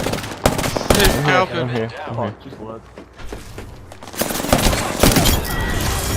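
Rapid automatic gunfire and shots in a multiplayer shooter, loud bursts at the start and again near the end, with players talking over the action in between.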